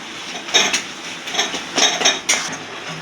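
A utensil stirs fish curry masala in a pan, making a few sharp metallic scrapes and clinks spaced across a few seconds, close and fairly clear.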